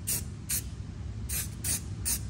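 Short hissing bursts of black spray paint hit a metal lift-kit part on a Lexus GX460, five quick sprays in an uneven rhythm, close and clear.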